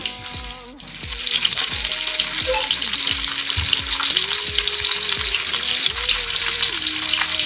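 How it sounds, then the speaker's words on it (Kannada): Sardines coated in rava shallow-fry in a pan, a steady loud sizzle running throughout with faint clinks of utensils. "ಡೀಪ್ ಫ್ರೈ ಮಾಡೋದಕ್ಕಿಂತ ಹೀಗೆ ಪ್ಯಾನಲ್ಲಿ ಹಾಕ್ಕೊಂಡು ಫ್ರೈ ಮಾಡಿದ್ರೆ ಒಳ್ಳೆಯದಾಗ್ತದೆ"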